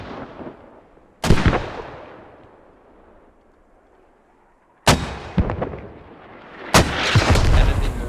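Mortar fire in the military shooter game Squad: three sharp, booming blasts spaced a few seconds apart, each with a long rolling decay, the last one denser and rumbling, heard alone without talk.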